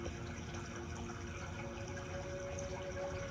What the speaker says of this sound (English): as the waterfall is coming down,